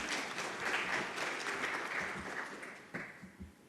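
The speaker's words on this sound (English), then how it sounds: "A round of applause for her, please." Audience applause at a Namibian public-private business forum, a steady wash of many hands clapping in a hall, fairly distant and fading slightly toward the end with a few sharper claps.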